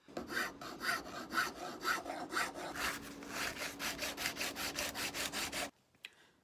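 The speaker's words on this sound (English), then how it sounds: "that's after about 5 minutes of sanding, just starting to shape and round over the edges" Rhythmic back-and-forth abrasive strokes rasp against a chef's knife blade made from an old circular saw blade, a dozen or more quick passes in a steady cadence, close by, then stopping abruptly.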